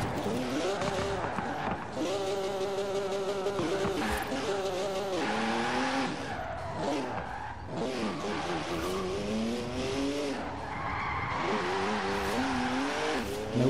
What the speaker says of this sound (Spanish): El coche dentro del túnel este